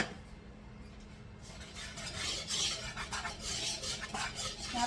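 A spoon scrapes and stirs pumpkin tea bread batter in a bowl, starting as a soft rasp and turning into louder, irregular rubbing strokes that grow busier toward the end, with no speech.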